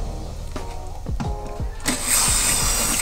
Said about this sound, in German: Hier müssen wir einfach dann etwas mit dem Bohrer drin rumfuchteln